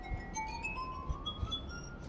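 Drinking glasses tuned to musical scales ring with clear, sustained pure tones, several overlapping pitches gliding and shimmering, with soft clinks and faint low thumps underneath, played quietly and close.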